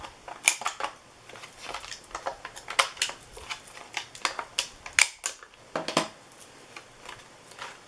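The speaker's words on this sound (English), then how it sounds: "I'm going to take a little corner rounder and just cut around the corners." A small corner rounder punch snips through the corners of a laminated notepad, giving a string of sharp, close clicks and crunches in irregular bursts, heard alone.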